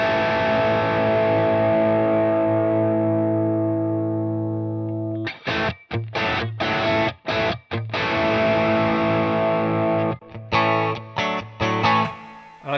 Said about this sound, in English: And I've got the plate reverb on